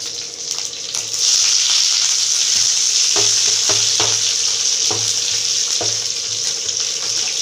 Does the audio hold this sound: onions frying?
yes